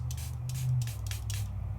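Short hissing bursts of spray are applied onto a paper craft project, roughly four or five quick spritzes in a row over a low background hum.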